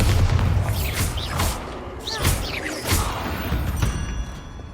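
Booming explosions from the Bombarda blasting spell in the video game Hogwarts Legacy, several heavy thuds and bursts in quick succession over a rumbling game soundtrack.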